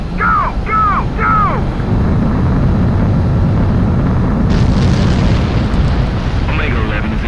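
A fighter jet takes off in the video game Ace Combat 7: Skies Unknown, its engine a loud, steady, broad roar that fills the whole stretch, with a few short chirping tones near the start.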